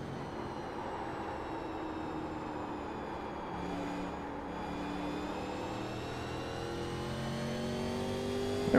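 Race car engine in the iRacing sim on the paved oval at Kern County Raceway Park, a steady sustained drone with rising harmonic sweeps as the throttle builds near the end, no talk.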